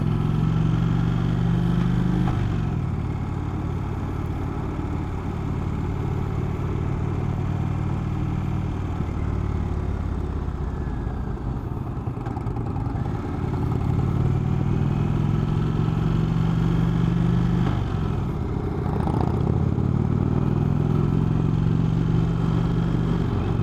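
Stock Indian Chief Vintage motorcycle engine heard while riding: a steady, loud low V-twin drone with wind rush, and a few rises in pitch as the throttle opens, continuous for the whole stretch.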